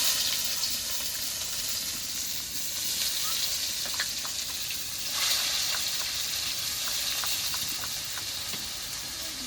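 Chopped onions fry in hot spiced oil, giving a loud, steady hissing sizzle that runs throughout, with faint clicks of stirring.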